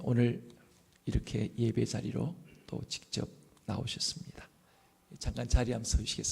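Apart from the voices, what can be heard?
No distinct noise like a dog, phone or traffic.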